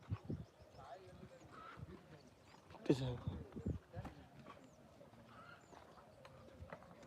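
Hooves of a bullock cart clip-clop in a steady walking rhythm close by, with people talking over them and some rustling in the background.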